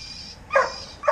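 Dogs bark at a bird in their outdoor water dish, two short sharp bursts over quiet garden background with no talking.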